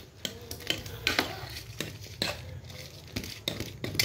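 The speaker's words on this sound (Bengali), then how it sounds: "এবার কিন্তু ভালোভাবে নাড়তে হবে। চামচ নিয়েছি, একটা চামচ বড়, ভালোভাবে কিন্তু নাড়তে হবে।" A big spoon stirring thick flour batter for fried flour balls in a bowl, rhythmic scraping and knocking strokes repeating roughly every half second, close and clear.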